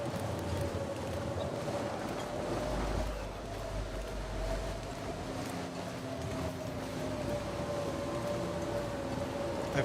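Howling blizzard wind in The Long Dark survival game near Ash Canyon, a steady, dense roar of gusting snowstorm noise with low rumble, continuous and loud throughout without pauses.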